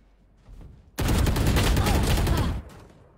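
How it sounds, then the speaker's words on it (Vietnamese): Sustained burst of rapid automatic gunfire in the video game Valorant, loud and close, lasting well over a second after a brief lead-in, then cutting off abruptly. "Ủa nó bắn ghê đấy."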